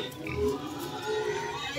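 Pigs grunt in low, rough bursts on a small village pig farm in Muzaffarnagar district, close by and steady under faint background noise.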